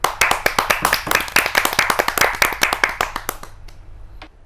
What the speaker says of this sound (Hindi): तो आइए ज़ोरदार तालियों से स्वागत करते